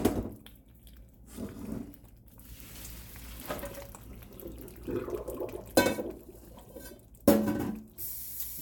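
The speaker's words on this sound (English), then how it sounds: "I'm going to drain these noodles and get it over here and see if I cooked enough." Cooked spaghetti noodles drained in a home kitchen for a baked turkey spaghetti, water pouring and splashing in several short bursts with quieter gaps between, close by and with no talking.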